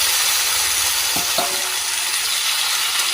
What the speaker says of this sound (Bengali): এদিকে আমার মশলা ভালো করে কষানো হয়ে গেছে, দিয়ে দেবো ম্যারিনেট করে রাখা চিকেন।